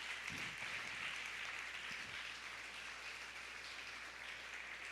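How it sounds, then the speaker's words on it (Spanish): A church congregation applauds together, a dense, even wash of clapping that sounds somewhat distant and soft, holding steady throughout. "Vamos a darle un gran aplauso al Señor"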